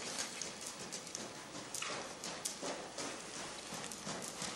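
A horse's hooves clip-clop steadily on the ground during a riding lesson focused on using the leg, a continuous rhythmic beat of footfalls heard close and fairly loud over outdoor noise.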